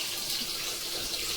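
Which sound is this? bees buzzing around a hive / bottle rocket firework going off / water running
water running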